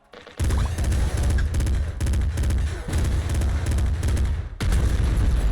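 Rapid gunfire from the top-down shooter Nuclear Throne, fired alongside a laser cannon: dense, loud bursts of shots running almost without pause, with a brief drop near the end before firing resumes.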